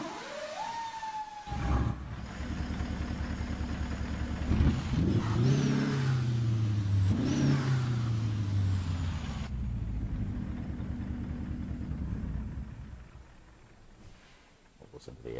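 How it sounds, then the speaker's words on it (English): A heavy truck engine in American Truck Simulator cranks on its air starter with a rising whine and a pneumatic hiss, then rumbles and revs in waves before settling, with a voice talking at points. "look out the window, and you'll hear the air start here."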